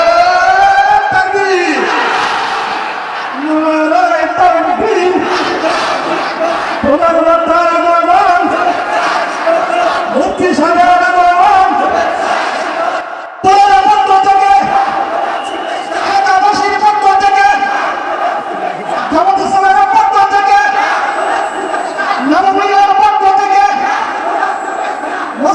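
A large crowd chants the takbir, Allahu Akbar, in loud, repeated swelling calls a few seconds apart during an Islamic religious sermon by a preacher in Chuadanga, the voices sustained and close throughout.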